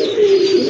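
A female pigeon gives a single close, loud, steady coo lasting under a second.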